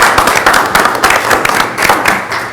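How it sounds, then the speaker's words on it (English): Round of applause at a city council meeting, many hands clapping steadily and densely for the whole stretch, fairly loud and close, with no talk over it. "I want to give you a round of applause."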